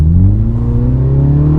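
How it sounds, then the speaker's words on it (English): A 2018 MINI Clubman JCW, 231 horsepower, accelerates hard, its engine and exhaust rising steadily in pitch as the revs climb, loud and close with no voices over it. "the engine and you can already hear the exhaust in this car"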